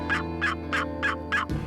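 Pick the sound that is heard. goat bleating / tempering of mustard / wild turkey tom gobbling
wild turkey tom gobbling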